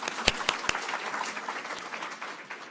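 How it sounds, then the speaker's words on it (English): Scattered audience applause at a school board meeting, a short spell of light clapping from a modest crowd, fairly faint and distant, with a few sharper individual claps early on. "We'll do a little applause here."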